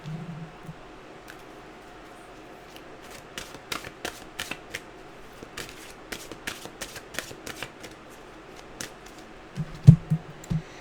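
Mantra cards are shuffled close by in a run of soft, crisp riffles and taps, sparse at first and then quicker, with a low thump or two near the end and no talk.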